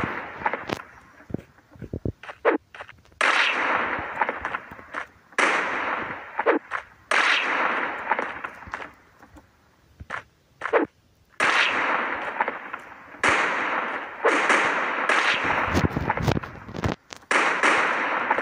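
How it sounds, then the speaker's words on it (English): Grenade explosions in a deathmatch video game, several loud sharp blasts with rumbling tails scattered across the clip, between gunfire clicks and footsteps, while someone talks over the action. "Oh, that's a grenade."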